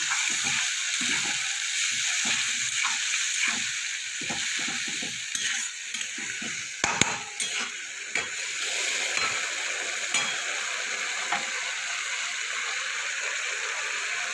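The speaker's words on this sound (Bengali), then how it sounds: "মশলাটা পুড়ে না যায় একটু সামান্য জল দিয়ে কষিয়ে নেব।" Spice paste with Kashmiri chilli powder sautéed with a splash of water in a pan, a steady hissing sizzle broken by repeated scraping stir strokes, close and moderate in level.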